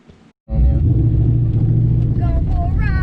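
A Coyote-powered car on drag tires fires up and pulls away after a brief silence, its loud, rumbling engine close and continuous, with some voices audible over it.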